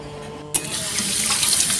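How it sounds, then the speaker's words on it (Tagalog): Tap water starts running suddenly and keeps flowing into a sink as a papaya is washed under it. The stream is steady and close, with no voices. "Ating hugasan ang papaya."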